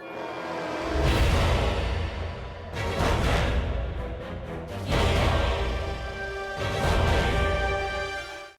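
Dark, brooding ambient music from the Bitter Black Isle area of Dragon's Dogma: Dark Arisen, with swelling waves of noisy, dissonant texture that rise and fall in loudness over a low drone.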